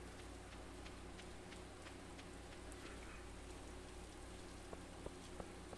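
Rain falling in the video game Stardew Valley, a steady, even hiss of rainfall with occasional soft drop ticks throughout.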